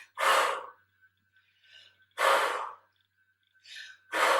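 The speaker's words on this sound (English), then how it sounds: "Open mouth exhale as you pull it back." Three forceful open-mouth exhales during a sculpt workout's pulling exercise, each a loud breathy rush repeating about every two seconds, with quieter breaths between them.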